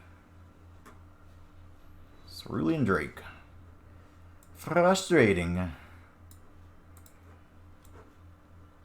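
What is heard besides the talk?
turn timer ticking down in MTG Arena video game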